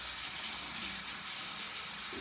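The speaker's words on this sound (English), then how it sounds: "Get that hot water going." Hot water runs from a tap in a continuous, close, hissing rush of moderate loudness with no break.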